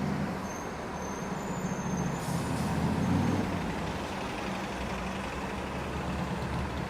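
A shuttle bus rumbles past on Yonge Street in Toronto, its engine drone steady and fairly close, with a brief air hiss partway through over steady street traffic.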